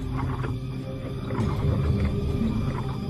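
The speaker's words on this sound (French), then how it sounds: "Une troupe de 24 lions surgit." Lions roar at night on the savanna, a deep rumbling chorus swelling and rolling low and loud, continuous over the whole stretch with no voices.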